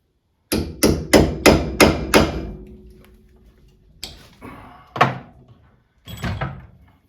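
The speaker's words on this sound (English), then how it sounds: "give it a couple of good whacks" Six quick, sharp hammer whacks ring out in a steady burst on a heated 1966 Mustang rear end, followed by a few slower, scattered metallic strikes after a short pause, close and loud.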